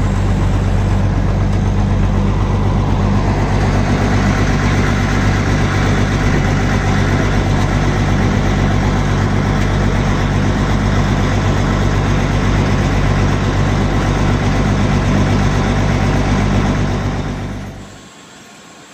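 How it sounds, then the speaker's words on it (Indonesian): Sugar cane train locomotive for a sugar mill, rumbling through bumper-high floodwater across rice fields, a loud, steady engine drone with a churning wash, fading out at the end. "ini ketika lokomotif melewati banjir di area persawahan di daerah Turi"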